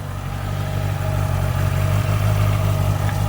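A 2017 Honda CB650F motorcycle engine starts and idles nearby with a steady, low, throbbing hum that grows slightly louder and holds even.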